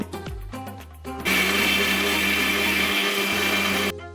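A mixer grinder whirs loudly and steadily for a few seconds grinding ragi with added water, after some brief clattering starts, then cuts off near the end.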